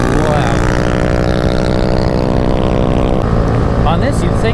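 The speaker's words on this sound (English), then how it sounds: "Man, that competition works exhaust is loud." Honda Grom mini motorcycle fitted with a Competition Werkes exhaust, its engine roaring loud and steady close by as it pulls under way, with a person talking over it.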